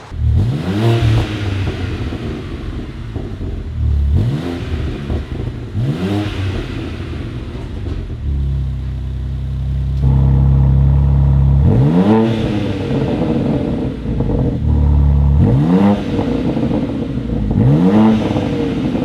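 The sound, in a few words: BMW M3 Competition xDrive G80 engine revving with exhaust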